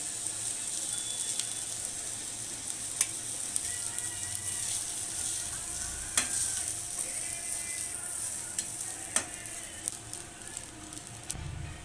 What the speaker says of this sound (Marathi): आता यामध्येच आपल्याला थोडंसं सुकं खोबरं भाजून घ्यायचं आहे